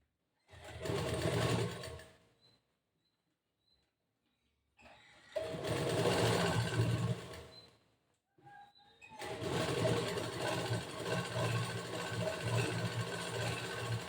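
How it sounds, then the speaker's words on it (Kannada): A sewing machine runs in three bursts of stitching, going back over an existing seam to double-stitch a boat neck blouse. The first burst is short, the second longer, and the third longest, with near-silent pauses between them. "ಅದೇ ಸ್ಟಿಚ್ ಮೇಲೆ ಇನ್ನೊಂದು ಸ್ಟಿಚ್ ಹಾಕ್ತಾ ಇದ್ದೀನಿ. ಯಾಕಂದರೆ ಡಬಲ್ ಸ್ಟಿಚ್ ಹಾಕಬೇಕಲ್ವ"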